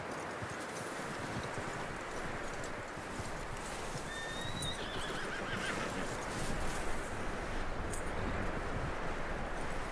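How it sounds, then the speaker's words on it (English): Horse neighing and hoof clops from Red Dead Redemption 2 on PS5, with a thin whinny rising above a steady, dense wash of outdoor ambience that continues for the whole stretch. "That looks like a decent horse."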